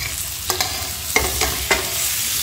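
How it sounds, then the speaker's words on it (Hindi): Spicy potato curry being stirred in a hot frying pan, with a steady sizzle of frying under several sharp scraping strokes of the spoon against the pan, close and clear, no talk. "इन्हें भी चंगी तरह मिक्स कर लेना।"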